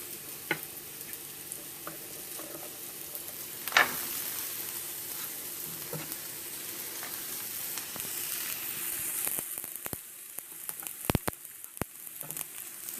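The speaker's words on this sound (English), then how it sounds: "I'm going to go ahead and add my carrots and onions and celery because it's a very hot pan" Carrots, onions and celery frying in a very hot pan, a soft continuous sizzle with scattered pops and a few sharp clatters of stirring near the end.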